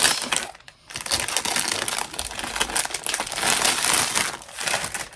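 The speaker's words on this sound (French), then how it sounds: "il va faire du bruit celui-là, c'est pas du papier, c'est du plastique" Close, continuous crinkling of plastic wrapping being handled and crushed, with a brief pause near the start before the rustling resumes.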